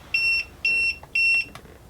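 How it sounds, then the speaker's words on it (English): An RV tire pressure monitor sounds its low-pressure alarm: three loud, clear electronic beeps in an even rhythm, close by, followed by a brief click, with no talking. "what you hear now is a low pressure audible alarm"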